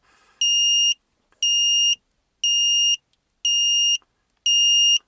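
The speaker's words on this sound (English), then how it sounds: "the alarm's going off" Five loud, evenly spaced electronic beeps from a Ford Transit alarm set off by a wiring fault, each about half a second long, with short silent gaps between them in a quiet space.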